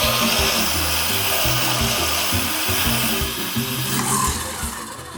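A stand mixer whisk beats butter cake batter in a steady, rhythmic churning whir with a close, rubbing, chunky texture, continuous and alone.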